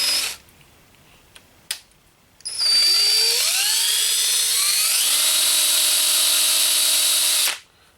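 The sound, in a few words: reaming out a hole in leather for a rivet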